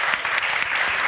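At a conference on sustainable development, an audience claps briskly and evenly for a moment, a dense, close burst of applause.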